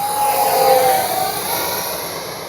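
The 40mm ducted fan of an X-Fly F-15 RC jet gives a loud, steady high whine while flying, close and sustained, with its pitch drifting slightly as it passes.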